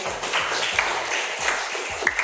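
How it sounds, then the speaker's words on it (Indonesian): Classroom applause for a student named Adi: a short burst of scattered hand claps from a small group of students, with a few louder individual claps over about two seconds. "tepuk tangan untuk Adi,"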